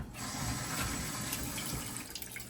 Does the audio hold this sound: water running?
yes